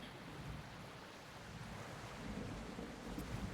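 Steady rain with a low thunder rumble in the survival game Project Castaway, a continuous dense wash at low level throughout.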